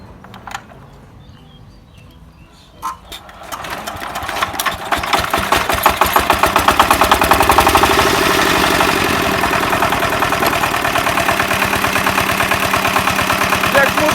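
A Forte 8 hp walk-behind tractor engine starts after a few quiet seconds of fiddling, then settles into a loud, steady, rapid chugging idle that runs on. A voice speaks briefly early on.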